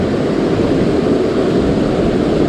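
Wind blowing at a river while fly fishing on the Clarks Fork of the Yellowstone, a loud continuous rushing roar buffeting the microphone throughout, with no talk.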